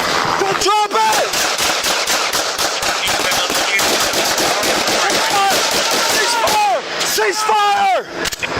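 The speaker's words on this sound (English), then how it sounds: "Officers from multiple agencies opened fire on Overton." Officers from multiple agencies firing at an armed suspect: a dense, loud burst of rapid gunshots in quick succession, with shouted voices breaking through the volley near the end.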